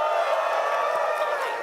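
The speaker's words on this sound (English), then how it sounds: "Applause for Team 3." Conference keynote audience at an AI engineering event applauding and cheering for a team, a steady wash of crowd noise with claps and whoops, fairly distant and diffuse.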